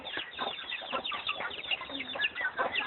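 Chickens cluck and murmur close by in quick, uneven bursts, several birds overlapping with no talking.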